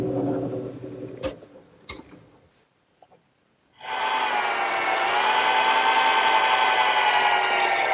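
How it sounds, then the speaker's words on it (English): A few light taps and clicks, a brief pause, then a power drill whirs steadily and loudly into wood drilling pilot holes, running without a break. "So I'm going to have to drill a couple pilot holes."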